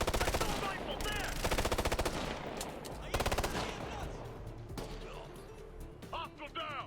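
Rapid assault rifle gunfire from the video game Ghost Recon: Future Soldier, with loud sustained automatic bursts and scattered shots, while voices call out over the firefight.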